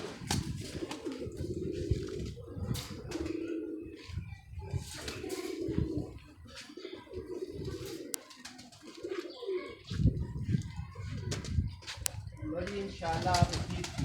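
A pair of pigeons coo in repeated throaty phrases, with a few wing flaps and chirps nearby, while someone talks over them.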